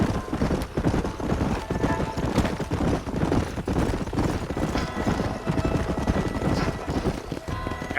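Horses gallop in Red Dead Redemption, their hooves drumming in rapid clip-clop as a whinny cuts through, with bursts of gunfire and a voice briefly heard over the ride.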